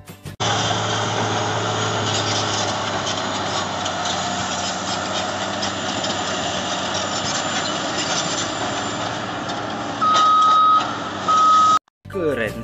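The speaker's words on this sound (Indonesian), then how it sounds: "Ada wheel loader." Heavy wheel loader at a mining site, its diesel engine running loud and steady while high repeated reversing beeps sound near the end, with a brief break before the engine noise returns.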